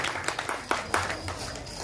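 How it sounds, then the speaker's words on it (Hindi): An audience at a cultural dance-drama program claps for a performer, a steady wash of applause with a few sharper individual claps standing out, fairly close and moderately loud. "आपकी जोरदार तालियां चाहिए"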